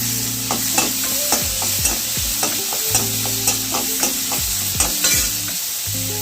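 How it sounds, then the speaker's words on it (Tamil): Onions frying in a pan with a steady sizzle, while a spoon scrapes and stirs them in repeated strokes, close and loud, with curry leaves being added. "கொஞ்சம் கிளறி விடணும்."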